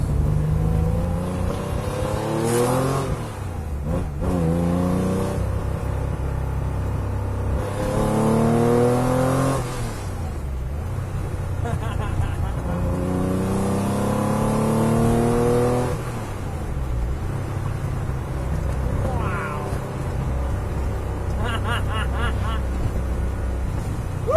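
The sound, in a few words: Porsche car engine running while driving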